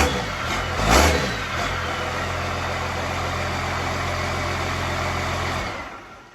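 A diesel engine runs on a test stand with a steady low rumble, a brief rev near the start, then a constant idle before it cuts off, loud and close.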